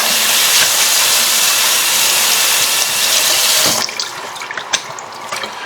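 Kitchen tap water runs hard over silverware being rinsed, a loud, close, steady rushing hiss that cuts off near the end, followed by a few faint clinks.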